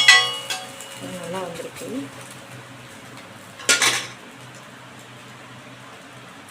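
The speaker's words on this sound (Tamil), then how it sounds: "இப்போ ஆம்லேட்டை வந்து பிரட்டி விட்டுக்கலாம்." An egg omelette is flipped in a pan with a spatula, bringing a short clatter of scraping and metal knocks and a faint sizzle underneath, while a person speaks briefly.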